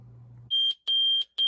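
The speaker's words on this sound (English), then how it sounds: "I was able to set the alarm and get it going." A tiny alarm clock with an FM radio beeps loudly in three sharp, evenly spaced bursts close by, after a faint low hum.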